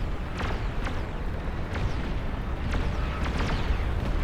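Plasma cannon shells land in a large-scale real-time strategy video game battle, a dense continuous rumble broken by a string of sharp impacts at irregular intervals, loud and with no talking.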